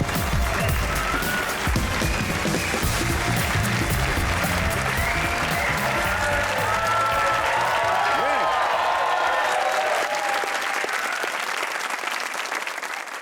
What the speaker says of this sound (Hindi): आज स्टूडियो लरज़ उठेगा, तालियां बजेंगी ऐसी